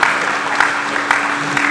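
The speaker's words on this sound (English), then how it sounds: "please give a warm round of applause for our panelists today" A short burst of audience clapping for the panelists at a California agricultural technology event, dense and even with a few sharper claps poking through and a steady low hum beneath.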